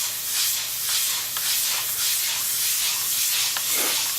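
A bowling ball being resurfaced by sanding with 500-grit abrasive, giving a continuous close, even hiss of grit rubbing on the ball with a faint low motor hum beneath.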